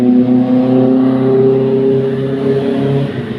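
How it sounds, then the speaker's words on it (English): Motorbikes pass close by outdoors with a loud, sustained, droning engine roar that shifts slightly in pitch as they go through, no voices over it. "the bikes were just passing through and it's a lot of noise"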